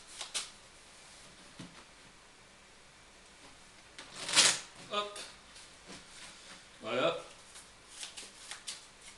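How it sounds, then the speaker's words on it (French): A spectator shuffles a deck of playing cards for a card trick, with a few brief riffling bursts standing out, close, while someone talks throughout. "Alors, il mélange le jeu."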